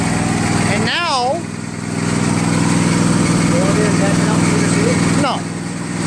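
A Troy-Bilt Bronco lawn tractor engine runs steadily and loudly close by, its droning hum continuous throughout, with a brief whistle-like warble rising over it near the start and again toward the end.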